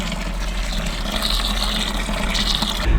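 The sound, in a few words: pouring warm water into sugar for home-brewed beer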